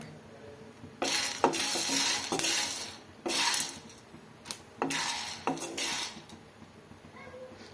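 Peanuts dry-roasting in a pan for Karnataka-style peanut chutney, a ladle scraping and stirring in bursts of metallic clinks and rattles, close and fairly loud with short pauses between strokes.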